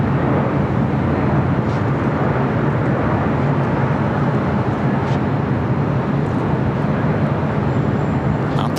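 A Delta Air Lines Boeing 767-300ER jet at LAX gives off a loud, steady broadband engine roar. The roar holds constant throughout and nearly fills the scene, with faint whine traces above it and no voices.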